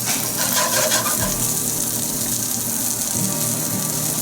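Mushrooms stir-fried in hot oil for a Southeast Asian vegetable dish: a loud, steady sizzle close up with a continuous hissing wash and occasional clatter, no talking.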